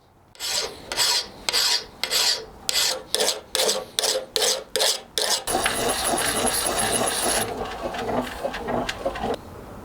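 Steady strokes of a file rasping across metal at a blacksmith's, shaping a piece before hardening, about a dozen rhythmic back-and-forth passes, then continuous faster scraping, close and fairly loud.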